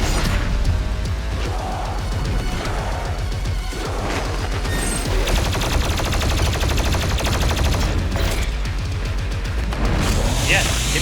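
Rapid gunfire from Doom Eternal, with a shotgun among the weapons, sounds as dense repeated shots and impacts over a loud, continuous game soundtrack, while a voice talks over much of it.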